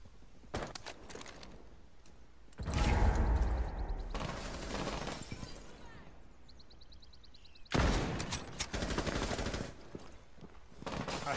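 Gunfire in the tactical shooter Rainbow Six Siege: several loud, close bursts of rapid shots, with a long volley around the middle and another toward the end, separated by quieter stretches of scattered sharp reports and mechanical clicks.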